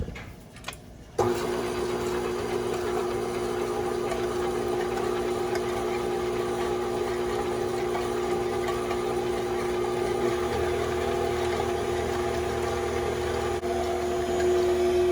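Electric stand mixer whirring steadily with a whisk attachment while beating a batter for strawberry shortcake, a continuous mid-pitched motor hum running alone throughout after a brief start.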